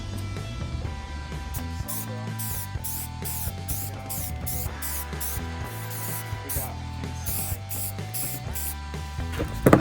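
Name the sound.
spray painting steel roof rack crossbars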